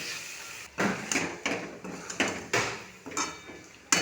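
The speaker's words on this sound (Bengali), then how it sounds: "মশলার সঙ্গে আলুগুলি নাড়াচাড়া করে নেব" Fried potatoes being stirred into cooked spices in a pan for a vegetarian paneer dish, a series of sharp clattering scrapes and knocks of a utensil against the pan at a steady rhythm, close and alone.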